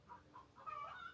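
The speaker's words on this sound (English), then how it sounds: "Chickens are waking up next door, it's pretty early." Chickens cluck in short bursts from a neighbouring yard in the early morning, moderately close and mixed with a higher, longer call near the end, with no talking.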